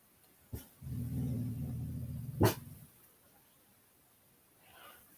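A dog indoors gives a low sustained growl, bracketed by two sharp barks, then goes quiet apart from a faint later whimper.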